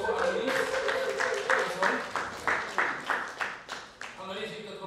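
A small indoor group applauds Annelies at a gathering in a decorated building, scattered hand claps that come in uneven rhythmic bursts, fairly close, with a voice talking over the start and end.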